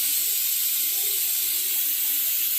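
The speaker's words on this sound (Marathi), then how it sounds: "ही 5वी शिट्टी सुद्धा झाली, मी एक्स्ट्रा करून घेतली." A pressure cooker whistle vents steam in a steady, loud hiss that fills the whole clip, heard while soup is cooked at home.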